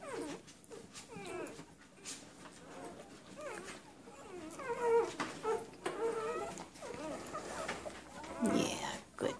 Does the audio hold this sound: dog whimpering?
yes